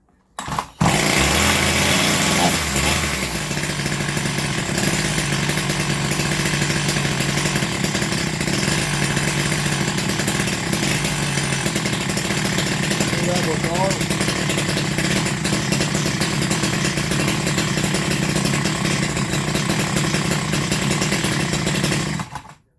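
A Zombie Slayer chainsaw engine runs loud and steady close by, a continuous high-revving buzz that holds nearly unchanged for about twenty seconds after starting, with the timing being adjusted.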